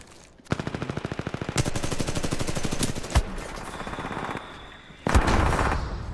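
Rapid automatic gunfire rattles in Titanfall 2, a fast burst of evenly spaced shots followed by sustained firing, a sharp single blast, and another loud burst near the end.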